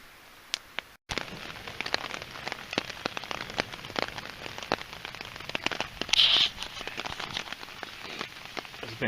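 Heavy rain on a mountain hike, pattering densely on a nearby surface with sharp drop hits, loud and steady after a brief quiet start, no voices.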